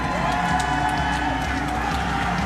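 A crowd at an amateur kickboxing event cheers and whoops in a steady, loud wash of noise that fills the arena, with a few sharper shouts standing out.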